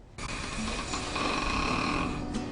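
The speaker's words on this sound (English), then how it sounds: "Snoring comes from a vibration in the airway" A single long, rough snore, loud and close, with a rattling vibrating tone that holds steady for a couple of seconds.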